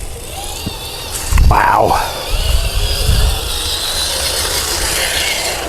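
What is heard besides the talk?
RC4WD Trailfinder 3 RC crawler driving over rocks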